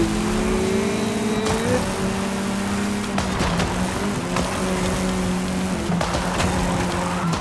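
Ford RS200 Evolution engine held at full throttle in Forza Horizon 5 during a Gauntlet race, a loud continuous rev with rising pitch and brief dips at gear shifts.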